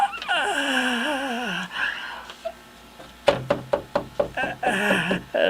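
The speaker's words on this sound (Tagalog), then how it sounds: "May kumakatok." A rapid series of sharp knocks on a wooden door, about eight raps in a quick uneven run after a stretch of high, wavering voices, with music or voices returning at the end.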